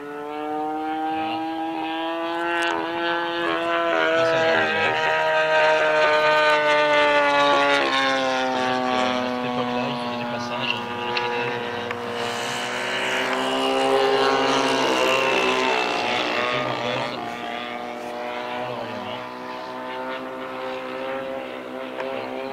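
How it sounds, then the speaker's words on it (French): A model P-40 aircraft screams past over the runway at full speed at a model aircraft meet, its high engine tone rising and sweeping in pitch as it closes in and pulls away, loud and steady for the whole pass with no talk. "le P40 qui s'apprête à nous faire un passage plein badin au-dessus de la piste"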